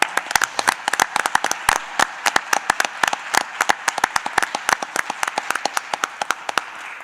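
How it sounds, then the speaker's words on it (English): Applause for a school bus driver named Chris at a Mooresville Graded School District award presentation: a room of people clapping steadily for about seven seconds, dense overlapping claps with sharper individual hands standing out, no talking. "If everyone could please join me in giving Chris a round of applause."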